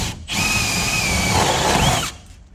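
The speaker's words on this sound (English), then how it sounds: "take an 1 1/8" hole saw and drill a hole in the outer" A power drill with a 1 1/8-inch hole saw whirs steadily at close range for about two seconds, cutting into the outer lamination of a panel with a broadband grinding roar before spinning down.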